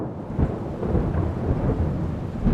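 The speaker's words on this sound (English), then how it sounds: "a storm threatened to ruin our day." A thunderstorm on a mountain in Peru brings a deep rolling rumble of thunder over the steady hiss of falling rain, loud and continuous with swelling peaks, and no voices.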